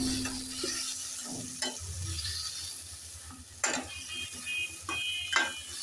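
Broad beans and potatoes stirred into spices in a pan, soft sizzling with several sharp scrapes and clinks of a spoon against the pot, close and fairly quiet, no talk.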